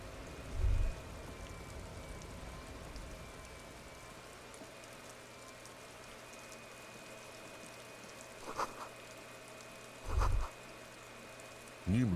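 Steady rain falls across a scene in the Disco Elysium video game, a soft continuous patter with a low hum beneath and a few brief low thumps.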